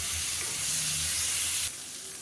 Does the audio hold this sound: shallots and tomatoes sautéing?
yes